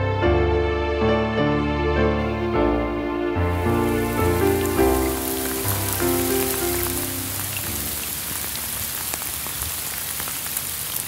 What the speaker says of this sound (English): This week it's been raining, raining a lot.